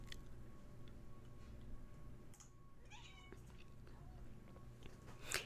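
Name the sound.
cat meowing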